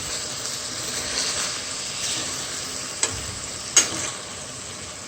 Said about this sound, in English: You take your time and just move the ackee around and the saltfish.